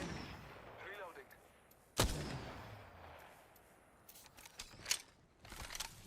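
Gunfire in a battle royale video game: one sharp, loud shot followed by scattered quieter bursts, heard beneath intermittent speech and game sounds.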